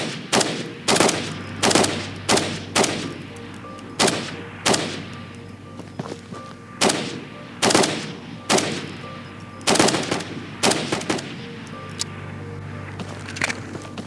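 Gunfire in the video game Ghosts of Tabor: loud, close bursts of rapid automatic shots, coming in clusters with short pauses between them, over a low steady hum.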